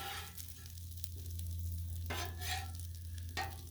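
Gnocchi sear on a hot Blackstone griddle, a steady close sizzle of frying with brief louder bursts of crackle as the pieces are stirred and turned.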